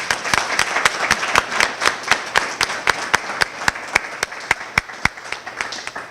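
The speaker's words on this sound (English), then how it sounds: "let's give them a huge round of applause." Audience at a recreation center ribbon cutting claps steadily, sharp individual claps forming a clear, even rhythm close to the microphone for several seconds, with no talk.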